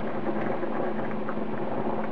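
Beef broth poured into a pan of browned ground meat, a continuous soft liquid splash and sizzle, close and fairly quiet.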